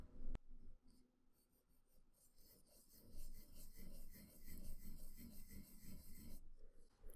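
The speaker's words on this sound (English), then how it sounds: "we can go ahead and create our diamond and quickly sketch out our circle" A pencil quickly sketches a circle for a three-point perspective drawing, making continuous close, scratchy strokes on paper that swell and fade in quick sweeps.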